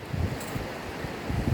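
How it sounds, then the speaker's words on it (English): Wind buffets the microphone in low, gusty rumbles, a blustery rushing noise outdoors in a UK field during metal detecting, with no talking. "God, it's windy."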